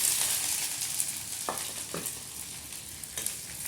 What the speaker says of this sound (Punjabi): ਗਰਮ ਹੋ ਗਿਆ ਨਾ ਤੇਲ ਤੇ ਹੁਣ ਮੈਂ ਪਾ ਦਿੰਦੀ ਹਾਂ ਪਿਆਜ਼